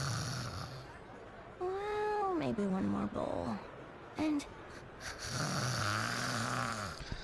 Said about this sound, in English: She snores so loud.